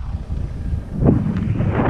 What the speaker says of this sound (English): It is incredibly windy, absolutely blowing a gale up here.